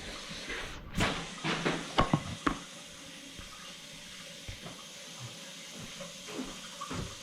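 Cold tap water runs into a pot for a turkey brine, a steady hiss of flowing water with a few clanks and knocks of the pot early on, fairly close and moderate in level.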